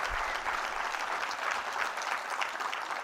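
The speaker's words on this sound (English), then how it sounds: "I'm going to play that applause to myself over and over again" Audience applause following a motivational speech, a steady wash of many hands clapping throughout, fairly loud and close, with no voices over it.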